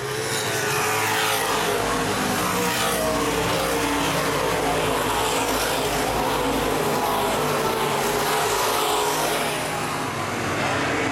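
Open-wheel modified race cars roar down the backstretch at Baer Field Speedway during a feature race, a loud, dense, continuous engine drone from the whole field with steady crowd-level noise throughout.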